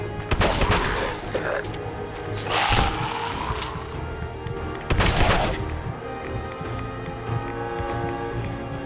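Gunfire in the video game Fallout 4, loud sharp shots in several bursts over a steady background hum, with rapid fire near the start and heavier blasts around the middle.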